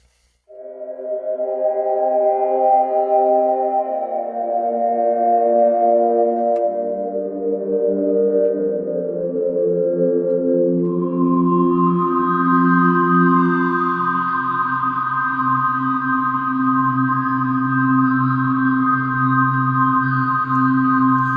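Sustained Heavyocity Foundations piano chords, held with the sustain pedal, bloom and shift slowly, drenched in long, washy reverb so the notes blur into a continuous ambient pad.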